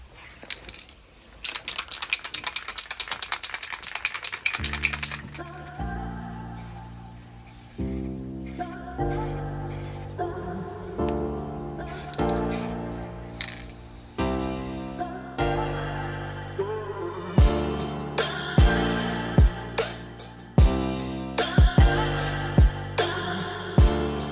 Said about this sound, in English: Now I'm just going to spray it. So the first coat of black is going on very soon.